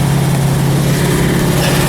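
A warming-up car engine idles steadily with a low, constant hum and rumble, close and continuous with no breaks, fitted with a new distributor cap, rotor and metal vacuum line.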